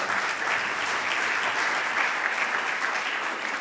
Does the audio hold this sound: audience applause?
yes